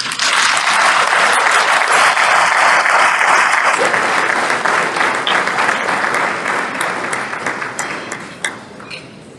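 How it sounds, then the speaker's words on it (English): A banquet audience at an awards dinner gives sustained, loud applause. The crowd's clapping is thick and steady, then slowly tapers off toward the end. "let's give another round of applause for Congresswoman Kelly"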